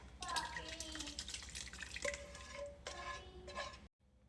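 Sofrito is poured and stirred into a pot of simmering red beans, soft wet sloshing and scraping against the pot with a few light clinks, fairly quiet and close, ending abruptly.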